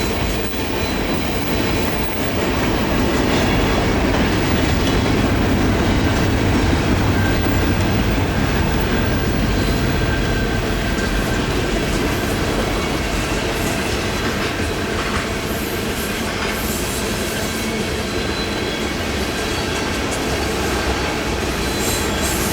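A CN Railway freight train rolls east around a big curve at Brantford: a loud, continuous rumble of passing cars with rhythmic clickety-clack and high squealing wheels, close by and unbroken throughout.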